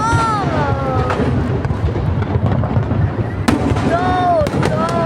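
Fireworks burst continuously in a noisy outdoor display, with rapid crackling bangs and whistling rockets rising and falling, loud and close, while excited voices shout over the barrage.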